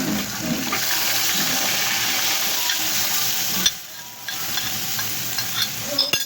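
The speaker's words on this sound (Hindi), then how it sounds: "सालन को हमने भून लिया है।" Leftover curry sizzles steadily as it is fried and stirred in a pan, with scraping stirs and a brief lull partway through.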